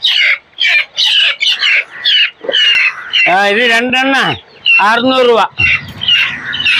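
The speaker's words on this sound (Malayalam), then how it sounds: "ചീമക്കോയ് ഗിനിക്കോയ് എന്നും പറയും." Guinea fowl at a poultry sale let out harsh, rasping squawks that repeat in quick bursts, close and loud, with someone talking over and between the calls.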